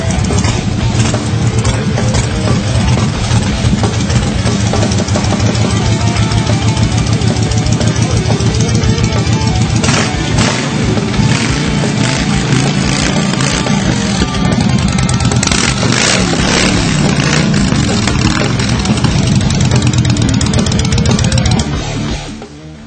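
A custom motorcycle built on a Star Warrior frame with billet aluminum engine side covers runs loud and steady throughout, a dense continuous engine drone with shifting revs that ends abruptly near the finish.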